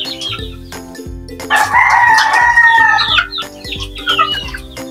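A silver gray native rooster crows loudly and close by, a single long drawn-out call, while other chickens cluck around it in a farmyard.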